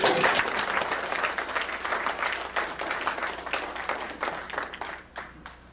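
Guests at the Freedom Party of Ontario's Election '90 dinner applaud themselves with a sustained round of close, dense clapping that gradually thins and fades toward the end.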